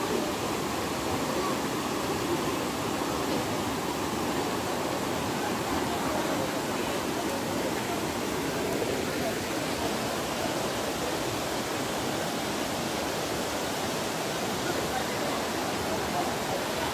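River water flows at a busy swimming spot, a loud, constant broadband rush with no breaks, like strong current or cascading water close by.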